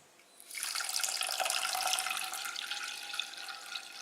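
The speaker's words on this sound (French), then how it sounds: "Ensuite je vais rajouter l'eau." Water poured in a steady, splashing stream into tapioca starch to mix a homemade hair gel, starting abruptly after a brief quiet moment and running continuously close by.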